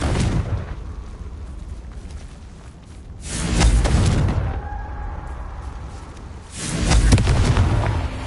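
A Confringo fire spell explodes in Hogwarts Legacy on PS5, with two loud, broad blasts that swell and fade over several seconds each, separated by a quieter rumbling lull.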